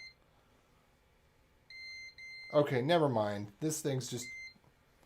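Disney lightsaber electronics on a repair bench emit a steady electronic beep tone that runs under a man's nearby speech, the beeping starting before he talks and continuing faintly afterward.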